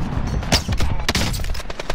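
Sniper and other gunfire in the video game Call of Duty Warzone: a rapid, loud burst of shots, several sharp reports in quick succession, with dense battle noise underneath.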